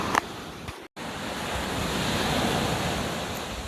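Ocean surf washes onto the shore in Tobago, a steady broad hiss of breaking water with wind buffeting the microphone, and brief knocks and a momentary dropout near the start.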